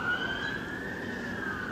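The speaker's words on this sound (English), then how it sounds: "We got a loud police car." Loud police car siren passing through a neighborhood on a warm evening, a steady wailing tone that slowly rises in pitch over faint background noise.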